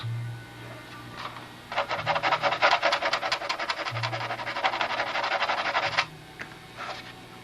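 Sandpaper wrapped around a wooden dowel rubs back and forth on a rounded wood corner of a model aircraft flap, a close, rhythmic rasping scrubbing that lasts a few seconds and then stops.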